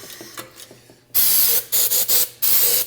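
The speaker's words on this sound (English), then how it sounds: "You can spray a little bit on there to kind of help loosen that up." An aerosol can sprays cleaner onto a pressure washer engine's throttle body in several short bursts, a loud close hiss starting after a second of quiet tinkering, with brief pauses between sprays.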